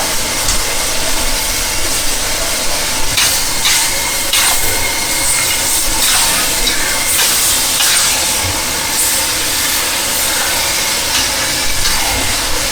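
Crispy pork being stir-fried nonstop in a wok at a busy street-food stall, a steady loud sizzle and hiss with repeated scraping clatter of the spatula running throughout.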